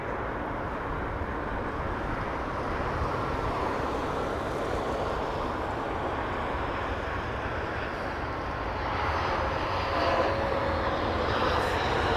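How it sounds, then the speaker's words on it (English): Jet airliner landing at London Heathrow in wet weather: a steady, loud engine roar that carries through the whole stretch, building slightly near the end, with no speech. "Big plastic aeroplane, look. Carbon jet."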